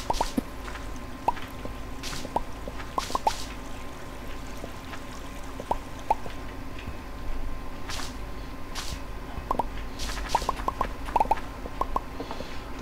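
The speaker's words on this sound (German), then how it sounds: "Vor allem wird hier gleich überall Wasser reinkommen" Water trickling and dripping in Minetest, with scattered drips and small plops over a steady low wash, fairly quiet and without talk.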